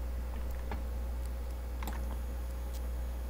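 Computer keyboard keys pressed a few times at irregular intervals, light faint clicks over a steady low hum, no talk.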